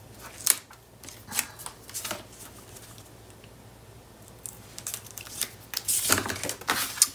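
Paper for a Graphic 45 Blossom mini album being scored half an inch along its sides, heard as a few soft, scratchy strokes and sliding rubs close by, with brief sharper swipes at the start and end and no talking.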